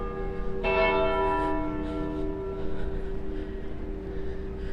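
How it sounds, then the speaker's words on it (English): A church bell rings loudly near Broad Street in Aberdeen, Scotland, one strong ringing stroke that decays slowly over steady outdoor street noise. "the bell that was making all the noise was just up there"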